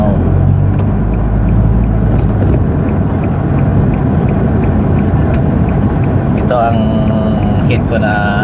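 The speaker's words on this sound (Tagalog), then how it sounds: "every Friday here in the Philippines it's always traffic." Road traffic on Roxas Boulevard in Pasay City, Philippines: a steady, loud rumble of car engines and passing vehicles throughout, with a brief higher tonal sound near the end.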